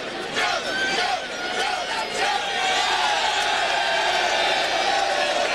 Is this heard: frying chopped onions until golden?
no